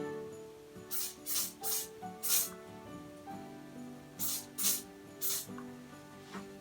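Short hissing bursts of a spray can, several quick sprays in a loose rhythm with brief pauses, over a faint background hum.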